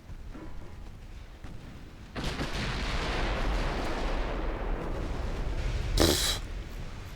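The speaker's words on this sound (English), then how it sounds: "Secondary guns continue on against the destroyers" Naval secondary guns firing at destroyers in a sea battle game, a long rolling roar of gunfire with a sharp louder blast near the end, loud and without talk.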